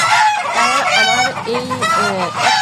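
Egyptian Fayoumi hens kept as egg layers cluck and crow close by, several loud overlapping calls running continuously for a couple of seconds.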